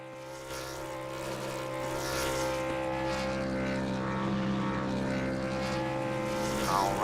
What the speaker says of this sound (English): that engine do the talking.